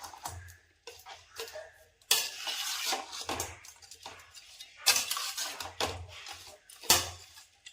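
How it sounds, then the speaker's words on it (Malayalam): A spoon clinks and scrapes against a pan while sardine pickle masala is stirred, giving irregular metallic taps and a few louder scraping bursts, fairly close and with no talk. "നന്നായിട്ട് എല്ലായിടത്തും ഇത് മിക്സ് ആവുന്ന രീതിയിൽ ഇളക്കി കൊടുക്കും"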